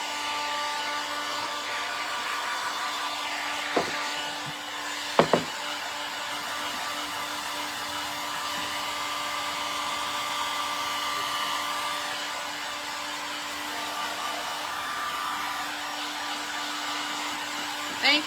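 A hair dryer blows steadily on an upcycled tray, a loud continuous whir held for the whole stretch with a couple of brief knocks partway through.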